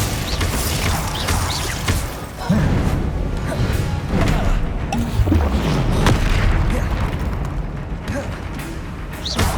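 A Confringo fire blast spell going off in the Hogwarts Legacy video game, a loud, booming burst of explosive noise amid constant dense game effects and rumbling, with a voice speaking over it.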